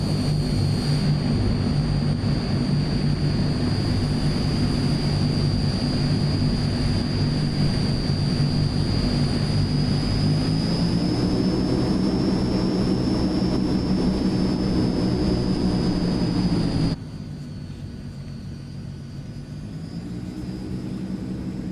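A Transall C160 propeller aircraft taxiing in Microsoft Flight Simulator: a loud, constant turboprop drone with a high whine, steady in the cabin, dropping to a softer hum near the end.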